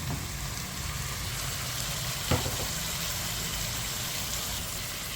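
Peppers frying in a pan as tomato is added, a steady close hiss of sizzling oil with a brief sharper splatter partway through, continuous and fairly loud without talk.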